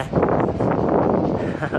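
Gusty wind roars and buffets the microphone on a bridge in London Docklands, a rough, continuous rumble that swells and dips slightly.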